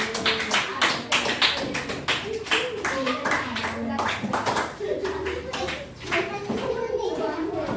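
Students in a classroom clap for a presenting group, a quick run of close, sharp hand claps mixed with children's chatter and voices.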